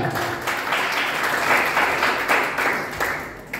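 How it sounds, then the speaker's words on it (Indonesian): A church congregation applauds together during a Christmas worship service, a steady wash of many hands clapping that holds at an even level for a few seconds, with no voices heard above it. "Beri tepuk tangan bagi dia."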